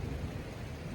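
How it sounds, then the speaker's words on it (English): Heavy rain pours steadily, a dense low rumble of thunder rolling beneath it, loud and continuous with no voices. "Hopefully you can hear me over the thunder and the rain."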